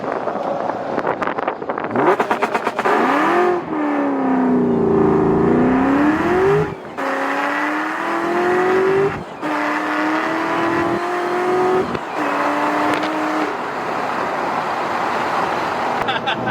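A Ford Mustang Cobra, with a WotBox fitted, revs hard in repeated pulls, the engine note and a high whine climbing and falling between abrupt cuts, loud and close, with a voice speaking briefly.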